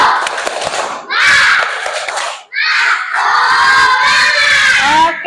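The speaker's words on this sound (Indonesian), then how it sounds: "Coba kita tepuk semangat dulu, siap? Tepuk semangat." Classroom of schoolchildren shouting a spirit clap chant in loud bursts, with claps under high young voices, three surges separated by brief dips, close and energetic.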